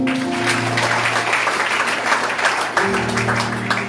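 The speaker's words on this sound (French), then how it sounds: "Je demande un applaudissement" Church congregation applause at a Haitian evangelical service, many hands clapping in an uneven wash over sustained organ or keyboard chords, with a brief dip before the clapping and music swell again.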